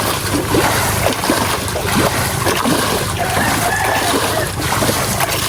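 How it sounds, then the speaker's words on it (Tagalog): Rainwater bailed out of a boat, with steady splashing and sloshing close by, continuous and fairly loud with no talking. "Tatanggalan po ni Bossing ng tubig."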